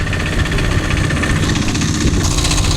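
A trawler boat's engine chugs steadily on the Meghna river, a loud, close, continuous throbbing drone with a rough vibrating texture and no talk.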